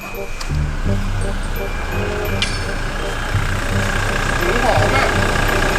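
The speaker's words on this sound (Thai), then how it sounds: "เครื่องดีเซลมันจะสั่นมากไง" A diesel car engine warming up after a cold start, with a steady, rough, vibrating idle rumble that stays loud and close throughout, while people talk over it.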